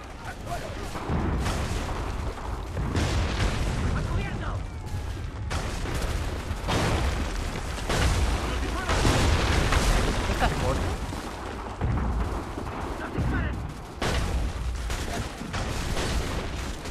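Dense gunfire and booming explosions in a trench battle in the video game Assassin's Creed III, loud and nearly continuous across the whole stretch, with a voice talking over the din.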